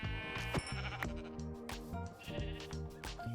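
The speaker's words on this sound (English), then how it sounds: "Brown sheep." Brown sheep in a survival crafting video game, repeated bleats over a layered musical soundtrack, the bleating fairly distinct and recurring several times across the short stretch.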